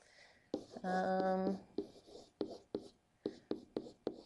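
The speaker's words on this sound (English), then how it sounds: "I'm going to write two lines here" A pen scratches out two lines of figures, with short close strokes in quick bursts, faint and quiet, and a brief tonal hum partway through.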